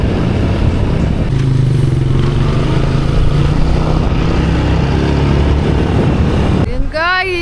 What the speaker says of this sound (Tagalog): Motor na lang kami guys kasi hindi naman naulan eh.